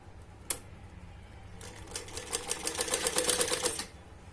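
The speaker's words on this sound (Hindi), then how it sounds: "अब हम इस पे सिलाई लगाएंगे।" A sewing machine stitches ribbon onto a cotton dress in a short, quiet burst of rapid mechanical clatter lasting about two seconds, preceded by a single click.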